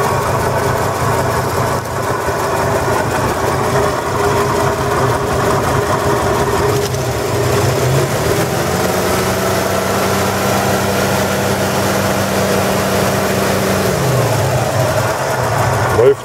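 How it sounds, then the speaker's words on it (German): A 1964 Ford Mustang with a 260 V8 idles steadily and loudly after standing a long time, with a constant low rumble and a grinding whine from the generator; a deeper tone shifts in and out partway through. "Man hört das Mahlgeräusch vom Generator."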